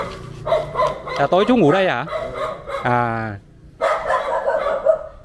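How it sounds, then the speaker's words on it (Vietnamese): Several dogs bark and yelp at a village house in Vietnam, with sharp close barks woven between a man's Vietnamese speech and short pauses. "Chó nhiều thế."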